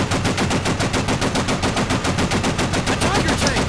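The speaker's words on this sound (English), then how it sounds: "Can you stop firing the MG?" Continuous rapid video game machine gun fire, loud and close, with a steady rhythm of sharp bursts and no talking over it.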